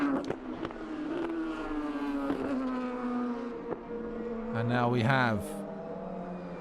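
Race cars including a Porsche run at the Asian Le Mans Series at Inje, with a steady engine drone that swells into a sharp, pitch-dropping pass-by near the end, heard under a commentator's talk.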